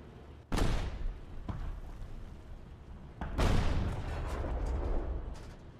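Two heavy booming blasts in a tank video game, one early and a bigger one midway, each followed by a rumbling tail, with a sharper crack between them.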